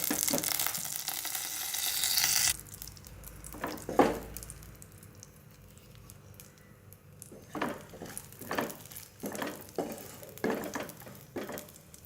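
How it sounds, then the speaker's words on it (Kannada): Raisins and cashews frying in ghee in a pan for carrot halwa, a bright hiss at the start giving way to softer sizzling with intermittent stirring scrapes, close, no speech. "ಈಗ ಇದಕ್ಕೆ ಒಣ ದ್ರಾಕ್ಷಿ ಮತ್ತು ಗೋಡಂಬಿಯನ್ನು ಹಾಕಿ ಹುರಿದುಕೊಳ್ಳಿ."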